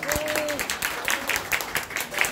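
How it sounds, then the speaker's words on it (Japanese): An audience applauds at a live rock band show, with a short burst of steady clapping. A voice comes through over the clapping. "もう一度大きな拍手をお願いします"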